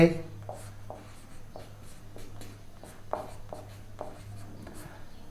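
A maths equation is written out, probably on a board, as a series of short scratchy pen or chalk strokes in a steady rhythm, faint and close, with someone speaking over them.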